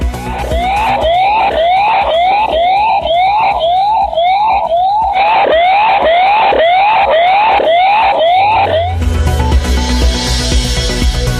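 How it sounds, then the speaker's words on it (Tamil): A loud electronic siren wails in rapid repeating whoops, steady and close, then cuts off abruptly into rumbling background noise. "சைரன் ஒலி கேட்டதுடன் யானைகள் அங்கிருந்து ஓடிய சிசிடிவி காட்சி"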